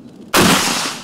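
An RPG anti-tank grenade launcher fires during military training in Zaporizhzhia, one sudden loud blast that cuts through quiet background and then fades over a second of rumbling decay.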